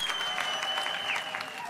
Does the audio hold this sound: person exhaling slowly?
no